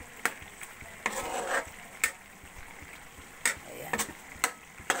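A spatula stirs chili in sizzling oil while laing is being cooked, with a steady low fry hiss broken by several sharp scraping clacks against the pan at irregular intervals.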